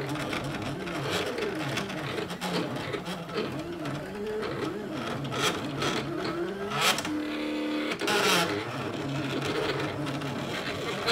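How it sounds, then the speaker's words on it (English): Silhouette cutting machine cutting gnome window cling outlines, a busy whirring and chattering motor with rising and falling sweeps as the carriage moves, close and steady, with a couple of brief louder bursts. "then it'll go ahead and cut out the outline of our little gnomes"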